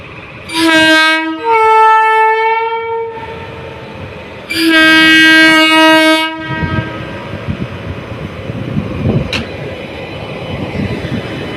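A train rolls through an open level crossing at P.D. Malviya crossing in Rajkot, sounding two loud, close horn blasts, a short one then a longer one, before the rumble and clatter of the passing wagons continue.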